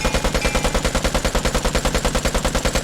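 Rapid, steady automatic gunfire from a weapon in the shooter game Vigor, a dense rhythmic stream of close, loud shots with no pauses over the whole stretch.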